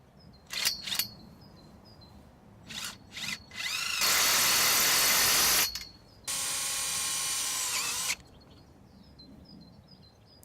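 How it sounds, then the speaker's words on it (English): Power drill driving a self-drill screw into the metal hoop frame of a polytunnel: a few sharp clicks, then two sustained loud whirring bursts of about two seconds each, close up and with no talking. "Tighten and fix in place using a self-drill screw."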